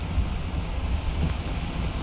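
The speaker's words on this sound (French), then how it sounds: "Le vent!" Wind blowing in the video game Peak, a steady low rushing roar that is loud and constant throughout, with no voices over it.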